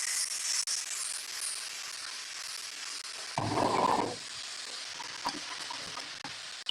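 Fresh diced tomatoes cooking in a sauce pan give a steady low sizzle and crackle, with a louder burst of frying partway through as more goes in, heard close and alone.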